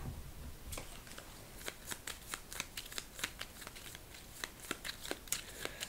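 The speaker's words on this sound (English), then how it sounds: "shuffle these cards" Playing cards are shuffled up close, a quick series of crisp riffling bursts and soft slaps, fairly quiet with no talking.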